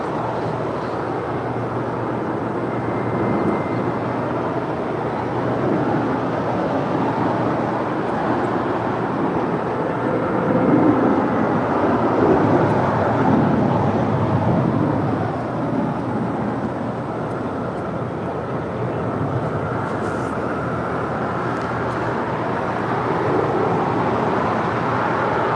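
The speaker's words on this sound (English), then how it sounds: "That is Spirit Airlines Flight 327 coming in from Houston, Texas, A320." Spirit Airlines Airbus A320 arriving at LAX from Houston, a steady broadband jet roar that swells slightly midway as it passes, sustained rumble with no voices.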